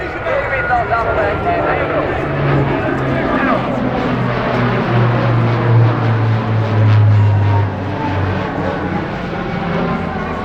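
Alenia C-27J Spartan twin-turboprop military transport flying a roll during an airshow display, its propeller drone rising and falling at a distance beneath steady commentary.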